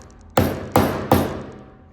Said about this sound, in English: Now you bang your middle down.